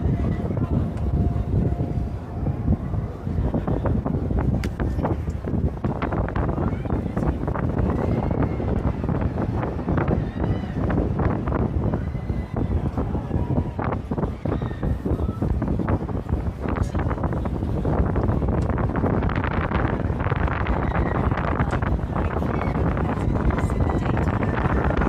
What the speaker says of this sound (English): Now I think you guys can hear the wind.